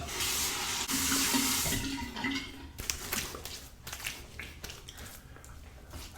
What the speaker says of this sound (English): Final rinse of the razor. Cold water rinse to the face.